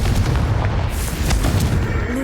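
A spell-cast explosion in Hogwarts Legacy rumbles as a loud, sustained low boom that fills the whole moment, with a brief whooshing flare partway through and no voices.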